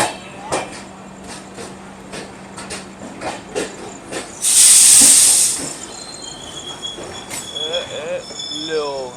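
The Delhi Mumbai Rajdhani Express pulls out of Gwalior Junction, heard from inside with rhythmic wheel clicks over rail joints, a loud burst of hissing air midway and faint squeals, with light voices in the background.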